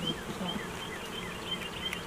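A swarm of honey bees hums continuously, with a few bees buzzing close by in brief rising and falling passes.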